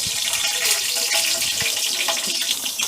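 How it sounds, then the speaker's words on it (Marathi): Green chillies fry in a hot tempering of cumin, mustard seeds and curry leaves, giving a steady, dense sizzle and crackle that runs throughout with no break and no voices. "आता मिरच्या भाजत आल्यात बघा मस्त वेगळी"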